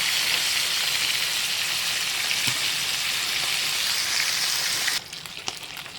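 Karimeen pearl spot fish fries in a pan with a loud, steady hiss of sizzling oil that drops sharply in level near the end, no voices present.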